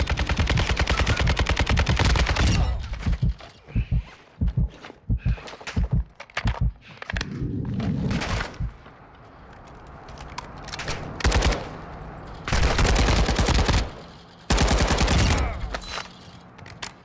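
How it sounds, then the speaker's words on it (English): Bursts of automatic gunfire from the DMZ video game, loud and close, coming in several rapid volleys with short gaps and a quieter stretch in the middle. "Quit shooting at me."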